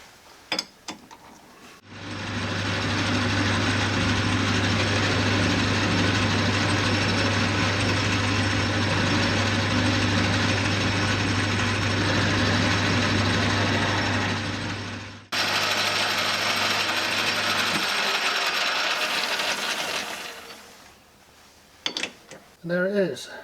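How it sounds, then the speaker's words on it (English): A worn metal lathe cutting a part during a Land Rover Series 3 restoration, a loud, steady mechanical whir with a low motor hum that runs for about thirteen seconds before winding down, then a few clanks. "Not the best bit of machining you're ever going to see, but considering the state of the lathe and its operator, I'm quite happy with that."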